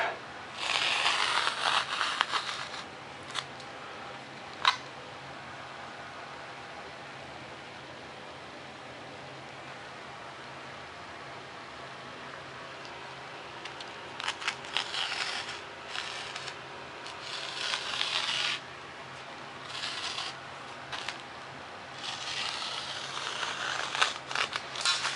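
Material for the wing spars of a model Fokker DR-1 is cut in repeated hissy, scraping strokes. The sound comes in bursts near the start and again toward the end, close and moderately loud, with a quiet stretch in between.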